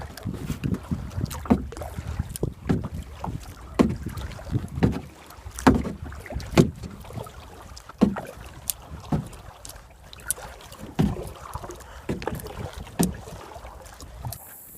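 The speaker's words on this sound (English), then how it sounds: "we're just paddling the kayak to the right location that we need to go" Kayak paddle strokes on water during a bass fishing trip, a steady rhythm of close splashes and drips repeating every second or so with light wind noise and no talking.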